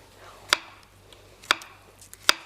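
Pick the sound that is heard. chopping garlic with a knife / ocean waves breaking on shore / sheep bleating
chopping garlic with a knife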